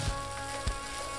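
A soft, steady sizzle of egg whites and rice frying in a pan, with a couple of faint low knocks.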